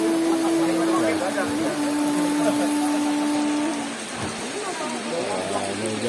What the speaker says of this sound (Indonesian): Ini hujan, ada bonus hujan.